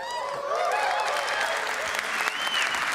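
A convention audience applauds steadily and cheers with whoops and shouts, a dense, even wash of clapping throughout, heard from within the crowd.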